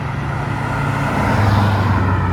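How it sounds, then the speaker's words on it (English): A turbocharged Mazda MX-5 pulls away from a Japanese car meet in Reading, a loud, steady engine drone close by that swells slightly as it drives off, with traffic noise around. "We got a Turbo MX-5 leaving."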